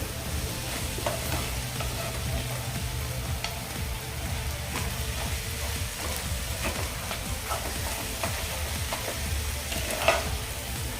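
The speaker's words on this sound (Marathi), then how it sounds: "व्यवस्थित हे पुन्हा एकदा आपण मिक्स करून घेऊया" Fenugreek leaf stir-fry (methi bhaji) with crushed peanuts being stirred in a pan: steady scraping and stirring strokes over a soft continuous sizzle, close and even throughout with no talk.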